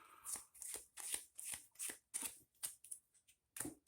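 A Magic card deck being cut and shuffled by hand at close range, a rapid series of about a dozen crisp riffling flicks in an uneven rhythm, quiet and with no talking.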